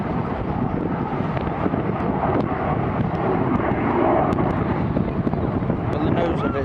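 A camouflage-painted aircraft flies over the seafront at the Weston-super-Mare air show, a continuous broad engine roar mixed with heavy wind buffeting on the microphone, with voices in the background.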